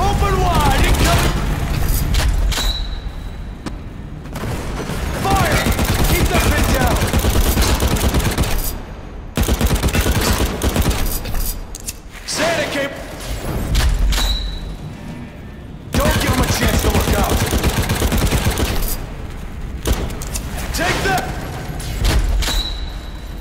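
Gunfire and grenade blasts in a World War video game: dense bursts of shots and booms roll on almost without pause, loud and close, with a voice talking over the battle.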